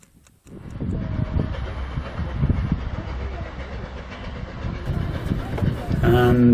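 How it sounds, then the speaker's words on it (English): A train rolls into a station, a steady rumble with clattering wheels building in loudness, plus some wind noise, ending with a louder closer passage. "here's the same train coming in, but viewed from the platform"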